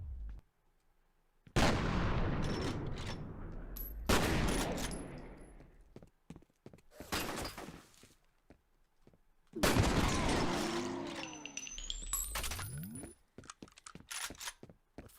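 Gunfire in the video game F.E.A.R., loud repeated bursts and single shots with ringing shell casings and booming impacts, arriving in several clusters separated by short quiet gaps.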